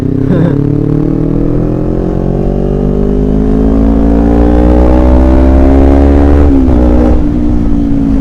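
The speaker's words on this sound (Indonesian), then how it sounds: "Jadi gua ini ceritanya ini manasin motor tapi sambil gua kontenin gitu ya" A motorcycle fitted with an aftermarket exhaust warms up, its engine note loud and steady and rising gradually in pitch with a brief dip near the end.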